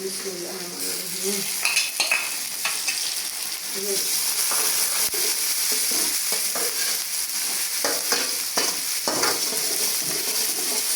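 Green chilies, tomato and spices fry on low heat in a pan for moong dal tadka, with a steady sizzle and repeated spoon scrapes and stirring clatter throughout.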